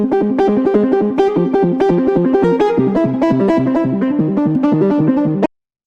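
A stepping synth bass line plays a fast repeating pattern of plucked notes with a warped, stretched character, then cuts off abruptly.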